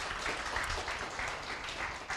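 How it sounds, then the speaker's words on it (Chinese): A seated audience at a direct-selling team leadership seminar claps together in a steady, dense burst of applause that fills the room from start to finish. "有，先给你们自己本身一个热烈掌声，好不好？"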